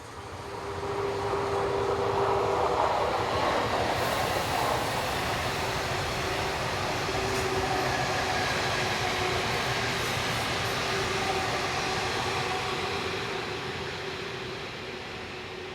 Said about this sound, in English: This train is seen passing Loreley.